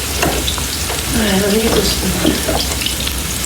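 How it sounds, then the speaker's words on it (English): Onions frying in olive oil in a pan give a loud, steady sizzle with stirring and clinks of a spoon, while a person speaks briefly over the cooking. "That's what you want to hear when you're putting your onions into the pan."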